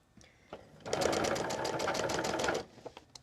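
A sewing machine stitches a Flowering Snowball quilt block in one close, rapid, rhythmic burst of about two seconds. Faint handling clicks come before and after it.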